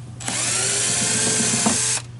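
A cordless power drill backs out the outside screws of a cooler in one steady, close whir lasting about two seconds, with a slight catch near the end before it stops.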